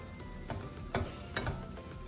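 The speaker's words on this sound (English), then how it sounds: "Keep on stirring so that the sauce will not stick to the base of the pan." Squid in sauce stir-fries in a pan, a soft steady sizzle broken by a few scraping stirs of the utensil, close and quiet with no talk.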